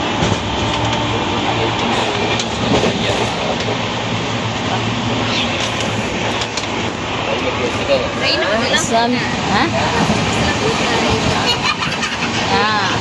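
A train rumbles and clatters past nearby with steady rolling noise, while people talk over it.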